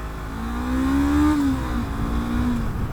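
A 2016 Honda CB500F motorcycle engine revs up loudly and steadily accelerating off the line, its pitch climbing then dipping briefly before rising again, close and sustained throughout.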